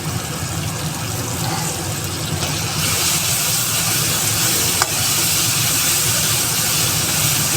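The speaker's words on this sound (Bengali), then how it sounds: "এবার আমি আদা বাটা দিলাম।" Ginger paste fries in a pan with a loud, steady hiss and sizzle that grows fuller partway through, with a single faint tap near the end and no talk.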